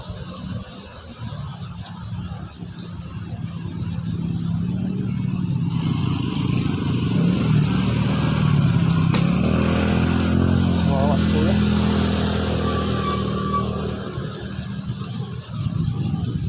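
Vehicles crossing a swaying bridge over the flooded Marikina River, with a motorcycle-like engine swelling close by and fading under steady rushing wind and water, while a person talks throughout.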